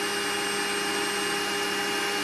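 A Podomonium Duster professional podiatry nail drill runs with its vacuum on, producing a loud, steady whirring drone with an even airy hiss, constant and unbroken throughout, with no voices.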